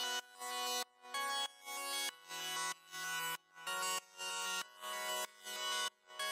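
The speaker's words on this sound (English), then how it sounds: "My iconic glitter synth." Bright, glittery synth patch carrying a pop song's melody in short rhythmic stabs, each note cut off by brief gaps, played alone at moderate volume without talk.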